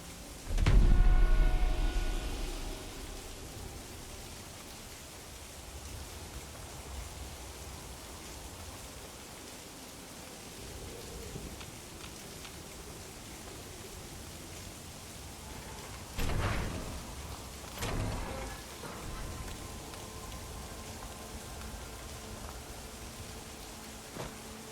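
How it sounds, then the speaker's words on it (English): Steady rain hisses across the scene in Fallout London, a continuous broadband wash with a few louder thuds and knocks, no talking. "Only the rain could ruin such a day as this one."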